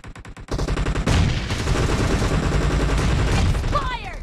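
Gunfire in PUBG Mobile team deathmatch: a few sharp separate shots open, then sustained rapid automatic fire with heavy booming reports continues loud and close, and a faint voice sits under it.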